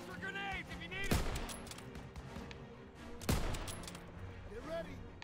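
Gunfire in Call of Duty: WWII: two loud, sharp shots about two seconds apart, over a continuous battle din with soldiers shouting.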